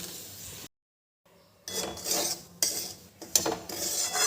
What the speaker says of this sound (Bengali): প্যাকেটে সুজি দিয়ে দিলাম বেশ ভালো করে ভেজে নেবো